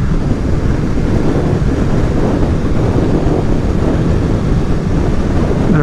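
Loud, constant roar of wind buffeting the microphone while riding a Kawasaki Z650RS motorcycle at nearly 60 mph, a dense unbroken rush that masks any engine sound.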